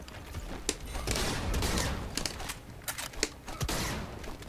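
Rapid gunfire from the Injustice fighting game, a string of sharp shots fired in quick bursts over steady game noise, loud and close.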